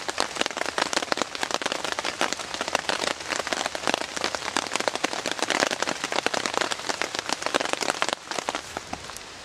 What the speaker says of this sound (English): to hear the sound of rain on the tarp